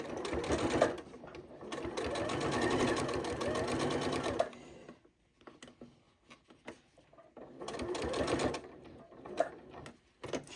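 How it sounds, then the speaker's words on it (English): A Janome 8200 QCP sewing machine stitches fabric in two bursts of rapid steady stitching, separated by a quieter pause filled with small handling clicks and rustles. "I'll raise my presser foot, rotate my fabric, and continue stitching down the side"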